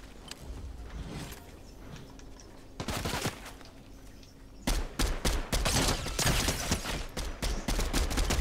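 Bursts of gunfire crack in a shooter video game, several rapid volleys in quick succession, loud and close, with a short quiet gap before the firing resumes and continues in dense clusters.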